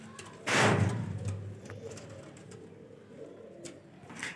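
Baby Golden Kamagar Dabwalay pigeons for sale in Lahore give a soft, low coo close by after a brief rustle at the start, followed by quieter murmuring and faint bird sounds, with no speech.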